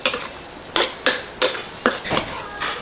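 Large fresh shrimp are stir-fried in a pan for curry-powder shrimp, with about six sharp spatula scrapes and clanks against the metal. The strokes come at an uneven rhythm over a faint, steady sizzle, loud and close.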